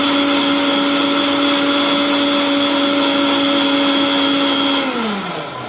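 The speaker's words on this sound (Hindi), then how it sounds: "चलिए इसको हम मिक्सर में मिला लेते हैं अच्छे से।" A blender motor whirs at a steady high pitch for several seconds while blending a chocolate milkshake of milk and sugar, then winds down as it is switched off.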